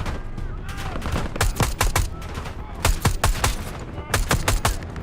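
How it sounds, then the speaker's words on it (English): Rapid, loud bursts of automatic gunfire in the video game Call of Duty: Black Ops 6 crackle in clusters over a steady rumbling backdrop, with occasional single shots between volleys. "We've got gunfire to the right."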